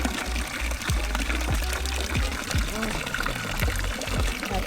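Fresh water pours and splashes steadily from a spout at a water stop on a Swiss mountain summit, a continuous close gush with some faint activity in the background.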